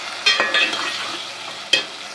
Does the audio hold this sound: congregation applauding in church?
no